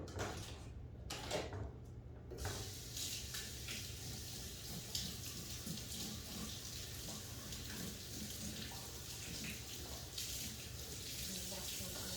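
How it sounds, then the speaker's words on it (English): Fruit is washed under a running kitchen tap, a steady broadband rush of water flowing continuously after a few brief splashes at the start, close and even in loudness. "So I'm just gonna wash my fruit."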